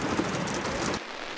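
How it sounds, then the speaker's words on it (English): Steady heavy rain drums on the roof of an off-road teardrop camper during a northern Arizona monsoon, with low thunder rolling underneath, the downpour dense and close before easing slightly near the end. "listened to the rain hit the roof, and took a little nap"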